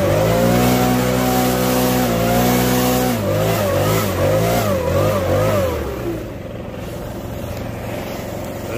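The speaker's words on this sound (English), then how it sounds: "TQ's finishing mowing, just has this little bit here left" A lawn mower engine runs loud and close while mowing grass, its pitch rising and falling with changing revs before dropping to a lower, quieter idle near the end.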